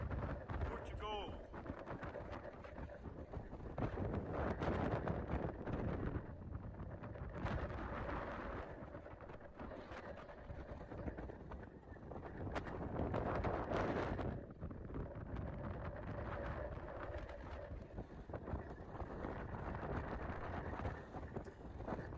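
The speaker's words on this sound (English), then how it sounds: "It was super windy." Strong coastal wind at Cabo da Roca, Portugal, roars and buffets against the microphone in a loud, continuous rumble with gusting surges, while a voice speaks faintly beneath it.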